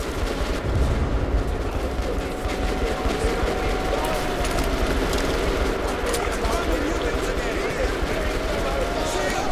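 An overpowered gun fires steadily in Metro Last Light, a dense, loud wash of rapid shots and rumbling blasts that goes on without a break while someone talks over it.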